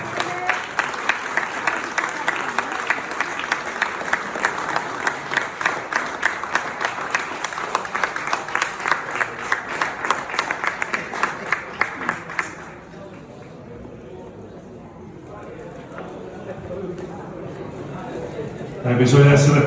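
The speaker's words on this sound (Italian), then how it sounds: "Ancora un applauso, ancora un applauso bellissimo" An audience at a firefighters' charity gala in Venice applauds with dense, steady clapping for about twelve seconds, then it fades out into a quieter room murmur.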